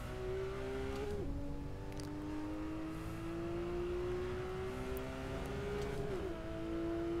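A racing car engine in a driving simulator game, played with Fanatec CSL Elite V2 pedals, gives a steady high-pitched whine that climbs gradually, dips briefly during two gear changes, and runs loud and continuous throughout.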